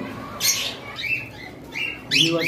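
Red-eyed albino breeding-pair pet birds at a bird farm give several short, bright chirps and squawks in separate bursts against a quiet background.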